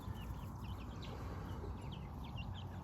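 Araucana and buff Brahma Bantam hens: soft, scattered clucks and chirps over a low rumbling background, fairly faint, with no talking.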